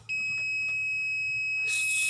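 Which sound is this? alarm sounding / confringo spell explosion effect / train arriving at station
alarm sounding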